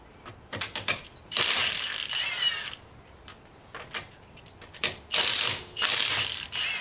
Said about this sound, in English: at this time I'm going to remove front wheel. I'm going to use this 21 deep socket.